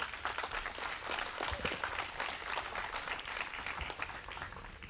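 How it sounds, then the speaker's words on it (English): Faint, steady crowd applause at an outdoor park dedication during a town's 100th anniversary celebration, a dense wash of many hands clapping from a distance with no voices over it. "I would like one round of applause for them,"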